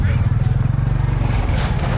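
Scooters passing through a busy market street in Kampong Chhnang, Cambodia: a loud, throbbing low engine drone close by, with people talking over it.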